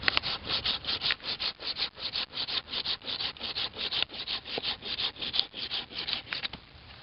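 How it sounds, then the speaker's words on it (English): A handsaw cuts through a Japanese holly branch in a steady, rhythmic back-and-forth, about three strokes per second, close and clear with no talking. "So we're using a handsaw. We're going to take that branch out there."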